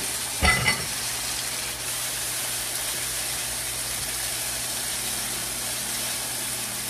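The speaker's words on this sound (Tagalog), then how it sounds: "Magigisa ka ng sibuyas. Sunod mo na agad yung kamatis para madurog." Onions and then tomatoes sautéing in a pan, a steady broadband sizzle that runs the whole time, with a brief clatter of stirring near the start.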